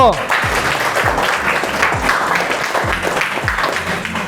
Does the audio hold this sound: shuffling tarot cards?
no